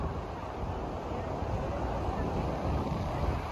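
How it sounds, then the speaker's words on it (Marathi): Wind and surf roar steadily at Murud Beach in Dapoli, a broad, close rushing wash buffeting the microphone with no break. "सो हा आहे आपला मुरुड बीच"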